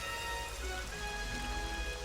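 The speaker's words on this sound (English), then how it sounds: "And there's rain everywhere." Steady rain falls throughout a rainy level in the Super Mario Galaxy video game, a dense, even hiss of drops with no pauses and no one speaking.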